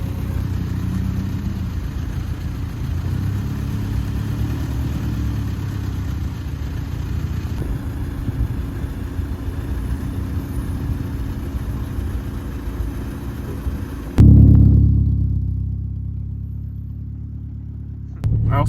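A Mitsubishi Eclipse car engine idles steadily after being started, a continuous low rumble that runs evenly, then a sudden loud thump and a brief dip in the sound near the end.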